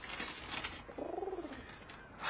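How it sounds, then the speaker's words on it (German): A single pigeon coos once in a short rolling burr, mid-level and fairly close, set against a soft steady background hiss in an island adventure radio drama. "Er lockte die Taube heran"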